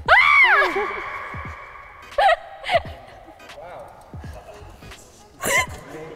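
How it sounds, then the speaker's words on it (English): During a lighthearted interview, a person lets out a short, high, wavering scream at the start, followed by scattered gasps, laughs and brief vocal sounds. "I just want to do a scream"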